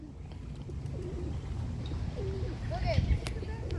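Ducks and other birds gather at a park feeding spot, soft coos and short calls rising over a low outdoor rumble while people talk nearby.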